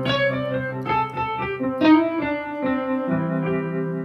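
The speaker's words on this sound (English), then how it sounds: "starts sounding like an electric piano. Just because you put a distortion in it." A Yamaha CK keyboard plays electric piano chords through a distortion effect, a sustained, gritty, harmonically rich run of notes with no talking.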